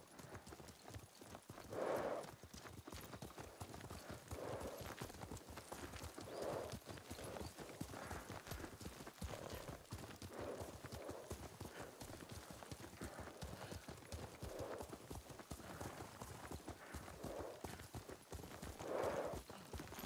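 A horse ridden in Ghost of Tsushima clip-clops along at a steady gait, its hooves drumming rhythmically and fairly close, with a few soft breathy snorts or whinny-like bursts over the continuous footfalls.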